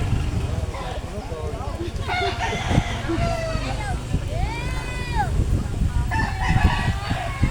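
Roosters crow near a cockfight, one clear rising-and-falling crow standing out midway with other fowl calls around it, all under close, lively talk from people nearby.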